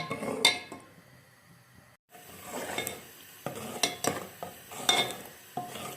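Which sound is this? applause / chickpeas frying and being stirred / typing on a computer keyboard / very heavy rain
chickpeas frying and being stirred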